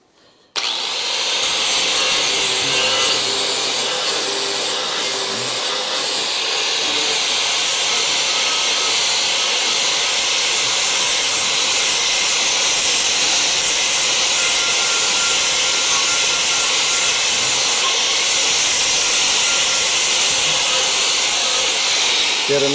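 A flap disc grinds down a high spot on a car body panel during weld repair on a Crew Cab Charger. A loud, continuous abrasive whir starts abruptly and runs unbroken, with a steady harsh rasp throughout.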